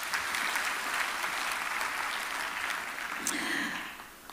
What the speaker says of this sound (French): Merci de l'applaudir encore une fois.